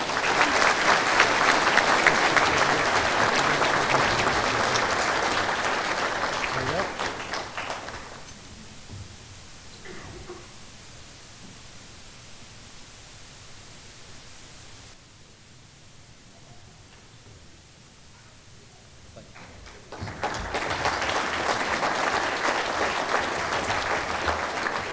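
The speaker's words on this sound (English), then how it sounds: "Let's give them one more round of applause, please." An audience at the 2013 Garland Sports Hall of Fame ceremony gives the inductees a loud, sustained round of applause, which fades to a quiet murmuring hall before a fresh burst of clapping swells again near the end.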